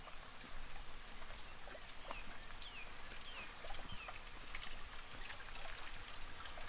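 Water trickles and gurgles steadily through a levada channel near Bica da Cana on Madeira, a continuous broadband wash with small splashy details and faint chirps in the background.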